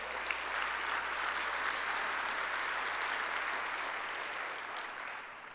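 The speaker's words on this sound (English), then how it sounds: "Let's give them a big round of applause for all of their work." A crowd at a San Antonio mayor's State of the City address claps in a sustained, fairly soft round of applause from many hands, heard from a distance and easing slightly toward the end.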